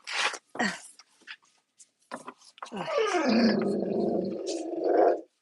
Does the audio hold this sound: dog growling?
yes